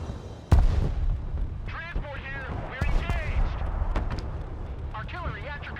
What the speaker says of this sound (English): they're going to probably hit us with the artillery shortly, especially at our resupply point